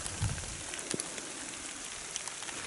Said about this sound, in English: the crater garden in the rain, which is quite mesmeric.